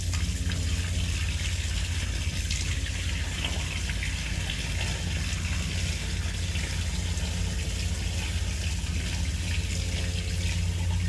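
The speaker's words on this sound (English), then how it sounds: "I'm going to put another gush of water down this thing" A gush of water poured down a pipe, a loud continuous rushing and gurgling flow that stays steady and close throughout with no pauses.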